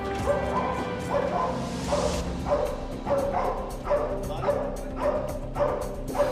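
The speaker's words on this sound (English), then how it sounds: "The dog's job is to detect possible offenders and then keep them in place by barking until its handler arrives." A military dog barks repeatedly at an offender, with sharp, loud barks coming roughly every half second to second in a steady, insistent rhythm, some yelping and whimpering in between, close and prominent.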